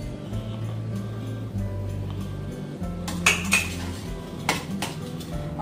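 A spoon scraping and clinking against a pan while carrot halwa with khoya is stirred on a high flame, with several sharp metallic clinks over a steady sizzle and no talking.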